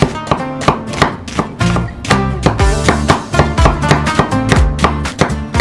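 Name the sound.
slicing onions with a knife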